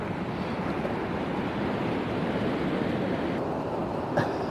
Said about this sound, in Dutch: Het zijn ook flinke golven daar.